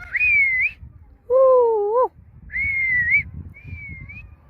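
A pet parrot whistles in bright tonal phrases, four short bursts with pauses between, one lower and more warbling, close and clear over faint room noise.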